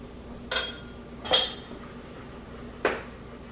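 A knife chopping a hot chili pepper on a board for a sweet potato and black bean chili, three separate close, crisp knocks spaced irregularly over a quiet kitchen background.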